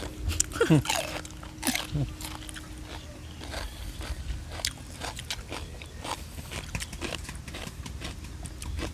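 Loud, close crunchy chewing of grilled marinated pork stomach, with repeated bites and crackling crunches through a steady busy background, and a few sharp louder bites early on.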